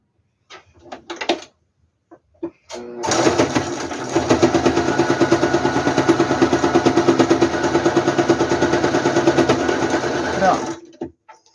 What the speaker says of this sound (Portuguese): E nós vamos costurar aqui, essa parte aqui na máquina.